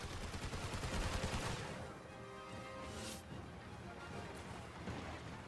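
Gunfire rattles in the Star Wars Battlefront II video game, with loud rapid bursts of shots followed by a quieter stretch of game sound.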